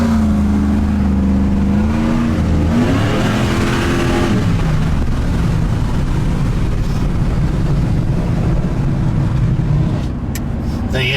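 Joe Gibbs Silverado truck with a dialed-in transmission pulling away hard from a dead stop on the street, engine note rising steadily and then carrying on as a loud, continuous roar with wind noise, no talk.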